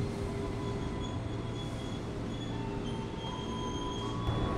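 Passenger train of ten cars rolling through Jatinegara station, a steady broadband rumble of wheels and carriages with faint high squealing tones, continuous and fairly close throughout.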